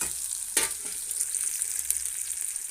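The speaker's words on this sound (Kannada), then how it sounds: "ನಾನು ಇವಾಗ ಇದಕ್ಕೆ ಈರುಳ್ಳಿಯನ್ನು ಹಾಕ್ತಾಯಿದ್ದೀನಿ. ಇದು ಈರುಳ್ಳಿ ಫುಲ್ಲು ಫ್ರೈ ಆಗಬೇಕಂತಿಲ್ಲ, ಸ್ವಲ್ಪ ಒಂದು ಅರ್ಧ ಫ್ರೈ ಆದರೆ ಸಾಕು." Onions half-fry in oil in a pan for a village-style pumpkin palya, giving a steady, close, bright sizzle with one brief stir or scrape early on.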